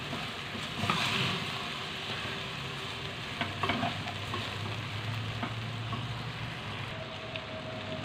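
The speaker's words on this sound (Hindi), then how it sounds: "भिंडी हमने फ्राई कर ली है" Okra frying in a pan for a masala bhindi dish, a steady close sizzle with occasional stirring scrapes throughout, no one speaking.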